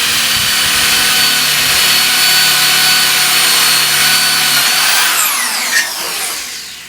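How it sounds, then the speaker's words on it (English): A power drill whines loudly and continuously as a long 5/16-inch bit grinds through metal pieces, winding down near the end. "I got my long 5/16 drill, and I'm going to run it through these pieces."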